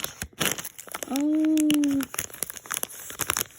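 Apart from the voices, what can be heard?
paper being ripped and crumpled while opening Mini Brands packaging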